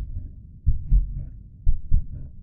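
A video game heartbeat effect in The Lost Fear gives slow, deep double thumps, two pairs of muffled low beats evenly spaced over a quiet hum, with no talking.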